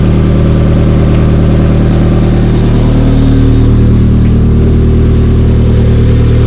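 A Honda Civic EM2 idles after an engine swap while it warms up, a loud, continuous, even low drone that stays steady and close throughout.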